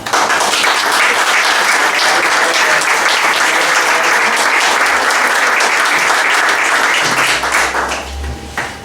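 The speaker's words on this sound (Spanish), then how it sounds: "Un aplauso" Loud, dense applause from an audience at a cultural event in Elche, Spain, sustained for about eight seconds before thinning out at the end.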